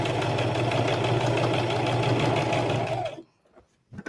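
A sewing machine runs steadily while stitching a Christmas stocking, a close, loud, continuous whirring hum that stops abruptly near the end, followed by near silence and a faint knock.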